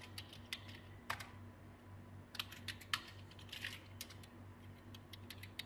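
Ruby code being typed on a computer keyboard: irregular bursts of crisp key clicks, close and fairly quiet, with short pauses between flurries over a steady low hum.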